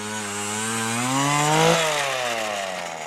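An Earthquake E43 gas-powered auger drills into the ground for a solar rack mount, its two-stroke engine whining loudly up close and rising in pitch before settling back.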